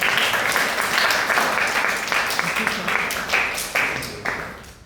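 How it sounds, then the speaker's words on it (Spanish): Classroom audience applauding a student in an economics session, a burst of brisk clapping that thins out and fades toward the end, with scattered individual claps. "aplausos para usted"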